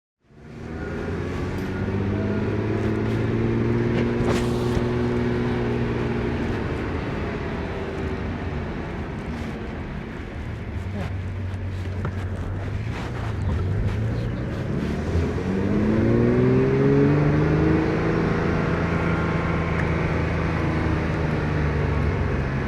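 A Ferrari 400i being driven, its engine note rising and falling through gear changes in a steady, continuous drone heard from inside the cabin with no talking.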